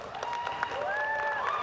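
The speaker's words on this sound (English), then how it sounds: "Let's give our graduate students a round of applause, please." Graduation audience applauding graduate students, a continuous wash of clapping from a large hall with whistle-like tones over it.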